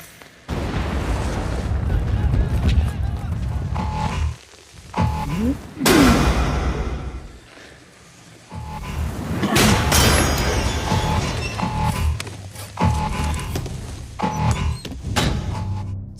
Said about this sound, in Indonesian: Sempat terjadi ledakan kembali